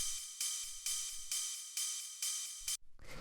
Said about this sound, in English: After that, we have this ride cymbal,